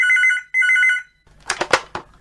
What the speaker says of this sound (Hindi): मैं फोन उठाती हूँ